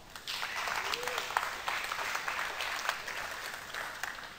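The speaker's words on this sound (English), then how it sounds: "That was pity clapping." A small audience at an animation workflow presentation gives brief, polite, scattered clapping, fairly quiet and sparse for a few seconds.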